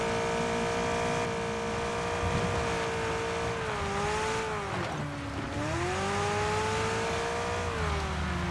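A McLaren car driven in PUBG, a steady loud engine hum whose pitch dips and climbs again as it changes speed, close and continuous with no talk over it.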